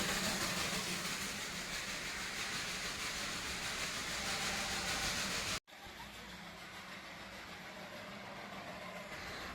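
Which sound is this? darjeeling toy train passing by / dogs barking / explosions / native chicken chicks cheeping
darjeeling toy train passing by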